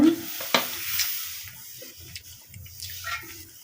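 Oil poured into a hot pan, with a brief close crackle and splash at the start that gives way to a soft, fading sizzle under faint background noise.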